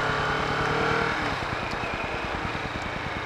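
A new Kawasaki Vulcan S motorcycle accelerating, its engine note rising to a loud close roar and then settling into a steady, pulsing drone as it rides on.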